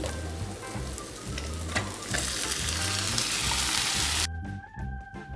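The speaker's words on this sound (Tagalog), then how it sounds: "Lagyan natin yung ating corned beef." Corned beef sautéing with garlic and onion in a pan, a steady loud sizzle with occasional stirring scrapes that cuts off abruptly near the end, leaving quieter kitchen hum.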